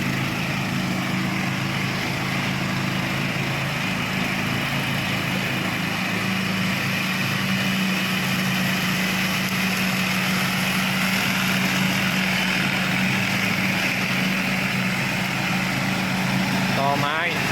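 A homemade Thai ride-on lawn mower engine drones loudly and steadily for the whole stretch, a rough continuous motor roar with faint voices underneath.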